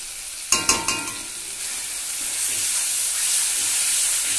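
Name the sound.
ginger-garlic paste masala frying and stirring in pan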